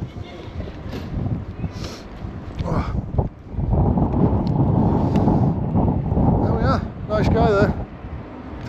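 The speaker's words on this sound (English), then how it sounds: "Bit windy now, isn't it?" Gusty wind buffets the microphone with low rumbling bursts outside the Tata Steel works in Sheffield while someone talks intermittently over it.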